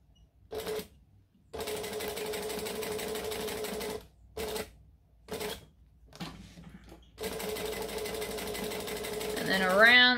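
Home sewing machine stitching a bowler bag around a curve, running in steady bursts of rapid mechanical whirring separated by short pauses, close and fairly loud, with a brief final backstitch and faint rustling of fabric.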